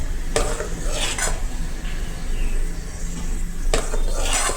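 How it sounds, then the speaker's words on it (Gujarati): Gram flour batter for boondi beaten briskly with a spoon in a bowl, a steady close scraping and swishing with a few sharper clinks against the container. "જેમ બેટરને ફેટશો તેમ બેટર સરસ બનશે"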